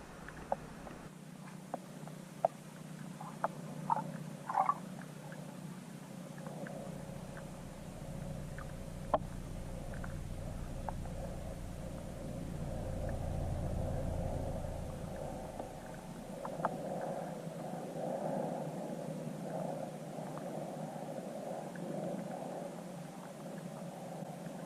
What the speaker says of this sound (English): And the trolling motor, and gosh, you'd be amazed how loud power poles are.